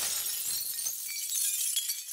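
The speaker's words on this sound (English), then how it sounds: "The robot was leaning on the glass, and it shattered." A glass window shatters in a children's cartoon, a bright crash of breaking glass that fades into a thin tinkling trail.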